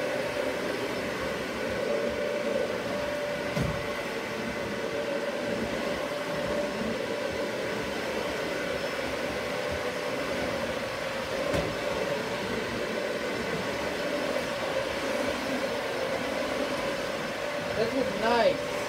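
A Dyson Ball Animal 2 upright vacuum cleaner runs steadily indoors, a continuous broadband whooshing hum with a faint tonal whine, moderate in level, with a few brief knocks and bumps as it is steered.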